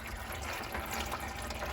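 Fluid gushes steadily out of a Honda after a bolt is loosened during a CV axle replacement, a continuous close splashing pour with no talk over it.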